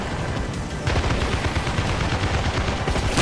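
Gunfire from troops in the Armored Brigade II wargame, a dense, continuous crackle of rifle and machine-gun shots that grows louder after the first second and keeps up steadily to the end.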